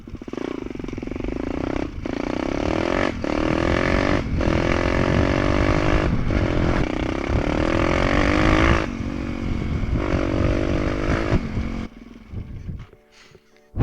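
A 190cc pit bike on 12-inch wheels rides off to the side, its engine loud and close with a steady, rough roar and small shifts in pitch, then dropping away abruptly near the end.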